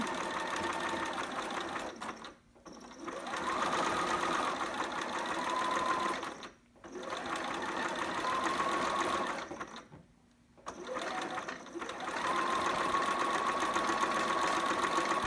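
A sewing machine stitches a seam on a two-piece sitter garment in three sustained runs of rapid mechanical chatter, each broken by a brief pause, close and steady.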